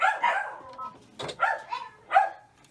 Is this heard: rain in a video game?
no